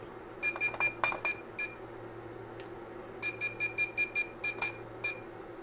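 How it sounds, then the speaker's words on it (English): After being pulled out of level, a Seesii 16-line laser level beeps rapidly in two bursts of short, evenly spaced electronic tones, with a pause between them, close and clear over faint room hum. "if you pull it out of level, it'll beep until it relevels itself."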